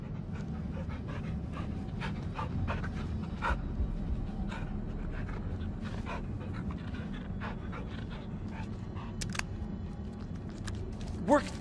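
A dog pants rapidly and steadily in the horror video game Blair Witch, the fast rhythmic breathing continuing for over ten seconds at moderate volume, with small clicks and faint background noises mixed in.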